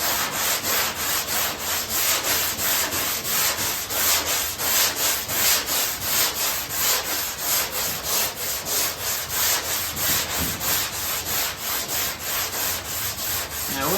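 Hand block sanding of car body paint, a steady back-and-forth rubbing rasp repeating about twice a second, close and even throughout with no talking.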